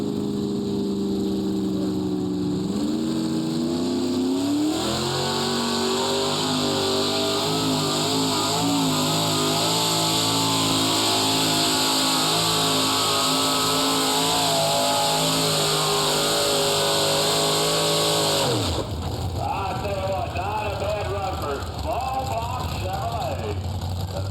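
Loud, close engines of a modified pulling tractor at a county fair tractor pull roar and rev continuously, pitch climbing and holding high before dropping sharply near the end, then rumbling on at a lower pitch.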